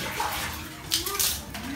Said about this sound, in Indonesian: Lalu dibilas sekali lagi ya bang? ya dibilas sampai bersih.